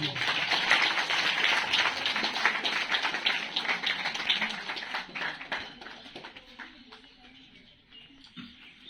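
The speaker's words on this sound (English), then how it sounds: "Give a round of applause, please" An audience at a school environment week celebration gives a round of applause, a broad burst of clapping that gradually thins and fades toward the end.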